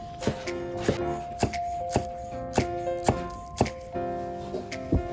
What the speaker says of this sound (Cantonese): 葱都係切粒啦